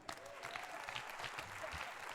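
A church congregation claps after a scripture reading, a short burst of dense, fairly distant applause from the room.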